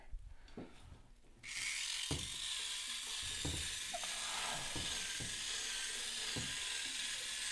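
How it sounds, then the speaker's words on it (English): An electric whisk starts up after a few clicks and then whirs steadily and close as it beats eggs with lemon juice over a double boiler for hollandaise, with occasional knocks against the bowl. "We're going to whisk it up with our handy dandy electric whisker."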